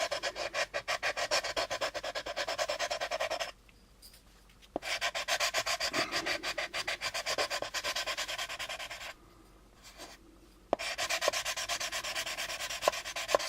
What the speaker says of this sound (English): I'm going to sand this area smooth